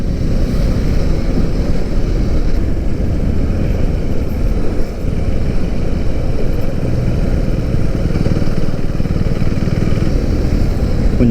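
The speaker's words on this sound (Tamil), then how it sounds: "இப்போ கொஞ்சம் பரவாயில்ல, ஸ்மூத்தாக இருக்குது வண்டி." A motorcycle cruising along the road after a long ride, its engine a steady low drone buried under heavy wind buffeting and road rush, constant and close with no talking.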